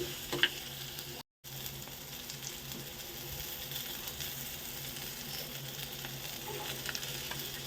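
Chickpeas fry in a pan of hot oil during tempering, giving off a soft, continuous sizzle with occasional stirring scrapes, fairly quiet and steady with a brief dropout early on, and no voices.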